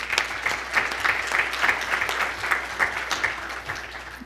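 An audience at an open panel event on financial regulation applauds for a few seconds, with moderate, steady clapping and no voices.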